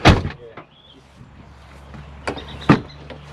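Back door of a 1976 four-wheel drive being opened and then shut, with a sharp latch at the start and a second solid thunk near the end, close by, separated by quiet.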